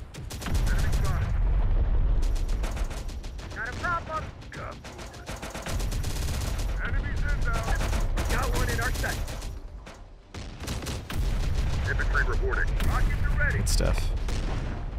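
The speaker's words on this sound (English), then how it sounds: "I love these artillery guns." Artillery guns in the Terminator: Dark Fate Defiance video game fire heavy, booming salvos in loud bursts. Rumbling explosions and crackling debris follow in waves with short lulls between them.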